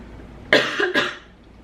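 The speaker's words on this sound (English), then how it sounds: "I'm really sorry about the constant coughing." Two harsh coughs in quick succession from a person indoors, close and fairly loud, followed by quiet room tone.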